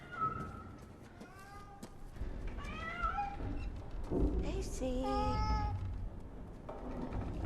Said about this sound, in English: You silly cat. Come out of there.